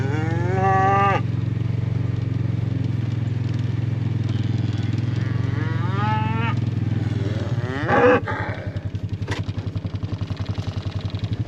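Highland cattle moo loudly and up close, two long drawn-out lows followed by a shorter call, over a steady engine-like rumble that turns into a rapid putter near the end.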